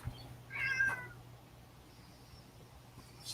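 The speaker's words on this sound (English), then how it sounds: "bloody cats" A domestic cat gives one clear, fairly close meow early on, followed by a quieter stretch with a faint low hum and another short sharp cry at the very end.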